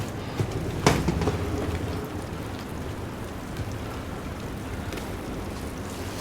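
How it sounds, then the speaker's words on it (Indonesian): Acid rain falling in the video game Death Stranding, a steady soft hiss of rainfall with a brief louder crack near the start, otherwise even and unbroken throughout. "Ini kayaknya hujan asam deh."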